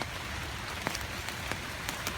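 Steady rain falls on a forest in Korea during wild mushroom picking, a dense continuous patter with a few sharper drops striking nearby surfaces, no voices.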